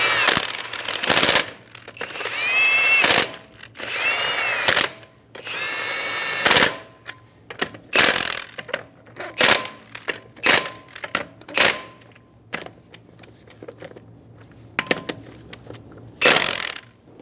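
An impact wrench snugs lug nuts onto a 2007-2011 Toyota Camry wheel in a series of sharp rattling bursts of varying length, separated by pauses and handling clatter, loud and close.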